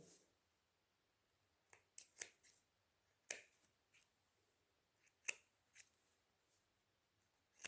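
Scissors snip into the neckline of a wool suit, a scattering of short, crisp cuts in irregular clusters with quiet pauses between them, close and fairly soft with no talk.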